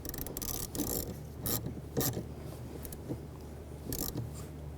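A ratchet snugging down the nut on a battery cable terminal of a 2021-2023 Jeep Grand Cherokee L, with several bursts of quick clicking pawl sounds separated by brief pauses, close and fairly quiet.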